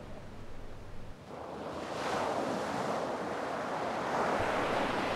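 Sea waves roll and wash in a broad, steady surf roar that swells after a quieter opening second, mixed with some wind rumble and no voices.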